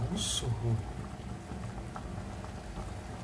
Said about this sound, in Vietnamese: một lúc thì nó đã bắt đầu sôi nhá